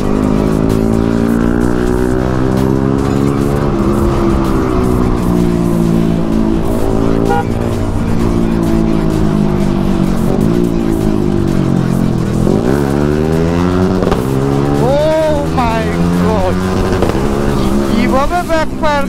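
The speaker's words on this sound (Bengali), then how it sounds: "কিভাবে ব্যাকফায়ার করতেছে ভাই" A Yamaha R15M motorcycle fitted with a GPX Demon GR 165 exhaust revs loudly and repeatedly, its engine note climbing and falling in sweeps with sharp pops and bangs of backfire, close up and dominant throughout.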